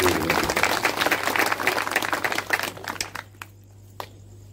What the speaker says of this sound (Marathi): आपण सगळ्यांनी विनोद भाऊच्या साठी टाळ्या वाजवून स्वागत करायचं